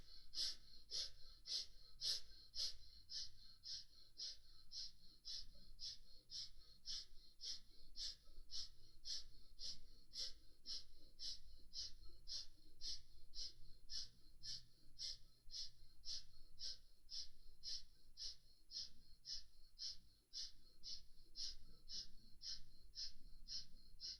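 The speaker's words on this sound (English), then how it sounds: "you are doing the quick and short breath, breathing through both the nostrils into the rib cage" Quick, short breaths drawn through both nostrils during a breathing exercise pulse in a steady, rapid rhythm of close, faint sniffs, about one or two per second, for over twenty seconds with no talking.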